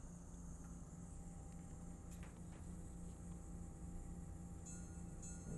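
An N-scale model locomotive with a sound decoder runs on its track, giving off a faint, steady low engine hum with a few brief clicks and no voices.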